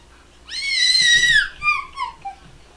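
A baby lets out one high, wailing scream of about a second that tails off into a few shorter whimpering cries, fairly loud and close against a quiet room.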